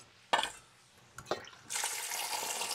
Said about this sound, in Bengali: বন্ধুরা আমি বেগুন কটা ধুয়ে নিচ্ছি